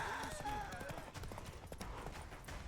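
Roach, a horse in The Witcher 3, gallops in a fast drumming clip-clop of hooves under continuous game noise and a voice talking.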